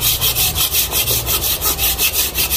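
A hand saw cuts through the roots of wild apricot bonsai stock in steady, rhythmic back-and-forth strokes, about five per second, close and loud, with no talking.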